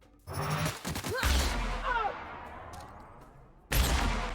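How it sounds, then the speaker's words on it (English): Grenade explosions and gunfire erupt in The Outer Worlds: a heavy blast rolls out into a long rumbling decay with whistling debris, and a second loud boom hits near the end. "someone just chuck a grenade at me"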